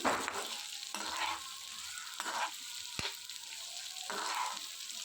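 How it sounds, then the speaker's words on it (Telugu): Vermicelli upma with carrot pieces and fried peas is stirred and fried in a pan, a continuous close sizzle broken by several scraping stirs of a spoon against the pan. "అలాగే ఫ్రై చేసిన బఠానీ వేసుకుని ఇవన్నీ కూడా కలుపుకుంటూ ఫ్రై చేసుకోవాలి"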